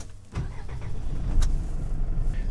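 A new camper van setting off on a public road at night, a low engine and road rumble rising after a soft start, with a couple of brief clicks or knocks.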